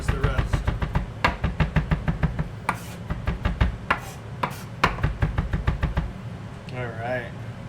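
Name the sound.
knife mincing garlic on a cutting board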